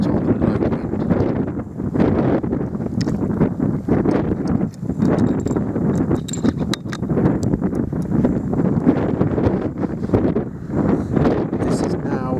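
Strong gusting crosswind of over 20 mph at an outdoor rifle range roars steadily into the microphone as a dense, unbroken rush with rumbling buffets, loud and continuous throughout.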